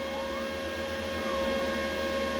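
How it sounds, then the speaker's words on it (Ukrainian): Steady mechanical whir of an EDON MIG 280 welding machine's cooling fan, constant and fairly loud, with a faint tonal hum underneath and no pauses. "вентилятор дуже шумить"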